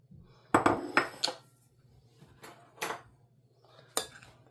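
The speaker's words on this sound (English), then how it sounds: "And we get a spoon and just give this a good mix through" A spoon mixing raisins, allspice and salt in a bowl for hot cross buns, a handful of distinct clinks and scrapes against the bowl in uneven bursts with quiet gaps between.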